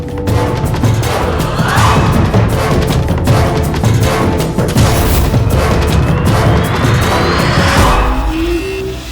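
Loud booming rifle gunfire with heavy echoing blasts and rumbling crashes, dense and continuous, a sharp whistling tone rising near the end.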